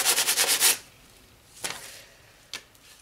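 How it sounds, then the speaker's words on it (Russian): Quick rhythmic rasping strokes of hand sanding a carved fantasy axe, about eight in a row, followed by a couple of isolated scrapes and knocks in a quiet room. "Сейчас буду шлифовать."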